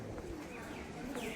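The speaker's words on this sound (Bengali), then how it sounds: "আর এই যে দেখো উপরে কতগুলো পায়রা রয়েছে" Pigeons perched overhead at a Hindu temple give soft, low cooing calls close by, under a steady murmur of background ambience.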